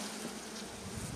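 A steady, dense buzzing of many honey bees shaken off a hive frame, close and continuous, with no voices.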